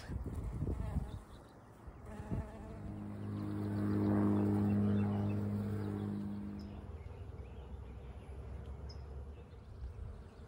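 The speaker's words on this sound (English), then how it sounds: "And bees." A steady, droning bee buzz swells to a loud peak midway and then gradually fades, heard with no talking over it.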